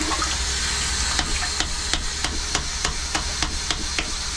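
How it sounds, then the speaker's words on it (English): Old toilet brush scrubbing and plunging in a blocked toilet bowl, a series of sharp wet knocks and splashes repeating roughly every third of a second over steady running water. "Clearing it with the toilet brush."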